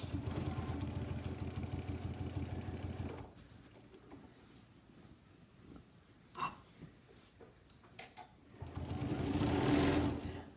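A sewing machine runs fast while quilting circles, stitching in two loud, steady bursts separated by a quieter pause of faint handling noise.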